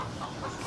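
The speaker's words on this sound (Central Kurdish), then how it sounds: "ئەمە کاکە ئەحمەد تۆ بۆ مریشکی 1 کیلۆیی ئەگەڕای" Chickens cluck steadily while being caught and handled, with birds weighing around one kilogram; the fowl sound close and continuous over a busy, noisy background.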